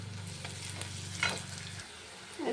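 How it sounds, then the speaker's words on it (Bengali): Cardamom, cinnamon, onion, garlic, green chilli and ginger fry in a pan for an egg curry, a soft steady sizzle with a low hum that cuts out partway, plus a brief stirring scrape. "এরকম মশলাটা হয়ে গেছে ভাজা"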